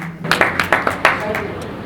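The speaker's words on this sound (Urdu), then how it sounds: "آپ کی تالیوں میں ہم ان کو دعوت دیتے ہیں" An audience at a Daily Dehat newspaper ceremony claps to welcome a former chief minister to the stage, a short burst of scattered, moderately close handclaps under a faint background murmur.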